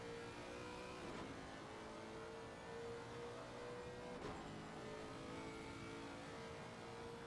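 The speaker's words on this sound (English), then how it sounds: "the screaming V8 engine at the front end of that car" A Lexus RC F V8 race car engine revs loudly and steadily at Imola, a high-pitched whine rising and swelling as it passes close by on the pit straight, with no talking.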